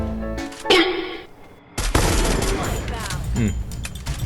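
Close-range gunfire in a video game featuring the new character Raiden: sharp loud bursts of rapid shots with impact noise and a short gap between volleys, under a commentator's voice.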